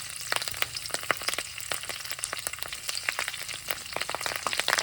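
Cumin seeds, curry leaves and garlic fry in hot oil on a gas stove, a dense crackling sizzle with sharp pops throughout, close and continuous without speech.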